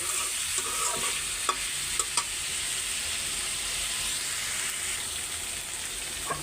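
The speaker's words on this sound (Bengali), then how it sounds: "মুরগিটা একদম সুন্দর করে কষাই ফেলছি, আমি আরও খুব সুন্দর করে কষাইছি, তেলের উপর উঠাই ফেলছি।" Chicken pieces are sautéed in oil in a pan, with a steady close sizzle and intermittent spatula scrapes and clacks as the meat is stirred.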